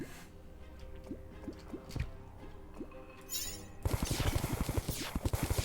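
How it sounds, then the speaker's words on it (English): Honey pours onto lava in the game Terraria, soft wet drips giving way to a dense run of squishy, bubbling liquid pops that grow louder toward the end, with no talk. "Currently, this is just pouring the honey into another pile of lava."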